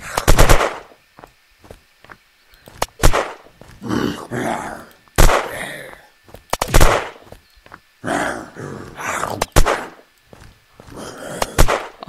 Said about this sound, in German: Ich muss schießen.